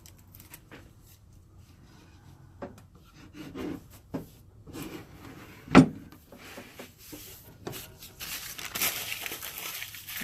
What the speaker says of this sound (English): lift it up and then pull the rest of the paper out from underneath of it